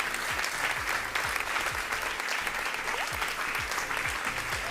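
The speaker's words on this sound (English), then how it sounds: "So please give them both a massive round of applause." A ceremony audience at the Northern Writers' Awards 2024 applauding award winners, dense continuous clapping filling the room at an even level, with a low rhythmic thumping beneath it.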